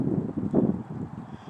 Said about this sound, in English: Wind's picking up.